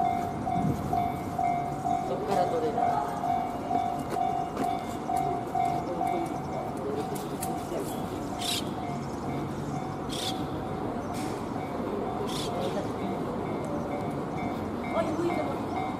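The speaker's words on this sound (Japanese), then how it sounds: "すぐ横に踏切があります。 踏切が鳴りました。" A railroad crossing bell beside Tenpaizan Station in Japan rings steadily with a passing JR train's rumble and clatter close by, while a voice speaks briefly over it.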